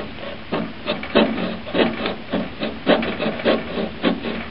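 A knife saws through a thin aluminum can, making a rhythmic series of rasping, scraping strokes about every half second, close and fairly loud.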